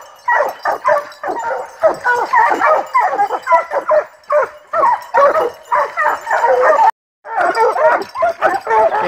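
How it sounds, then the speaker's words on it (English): Several hounds bark and yip rapidly and excitedly at a bear up a tree, close and loud, in a continuous overlapping chorus with only brief pauses. "Good dogs, good boy, Ollie!"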